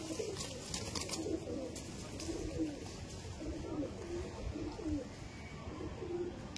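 Flying pigeons coo softly in repeated low, rolling phrases, fairly faint against a steady rumbling background.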